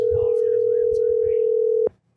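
A steady single telephone line tone sounds while a call to someone is being placed. It holds evenly for nearly two seconds, then cuts off abruptly, leaving quiet with faint background murmur.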